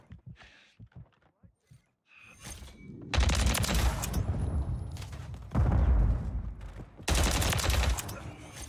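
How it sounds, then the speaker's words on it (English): Bursts of automatic gunfire from a Call of Duty multiplayer match, several loud sustained volleys separated by short gaps, with brief quieter shots and game voice callouts between them. "Taking effective fire!"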